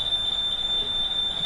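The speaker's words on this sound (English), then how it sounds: "How many fire alarms you got going on?" A smoke alarm sounding continuously, a steady piercing high-pitched tone held throughout with no pauses, loud and close.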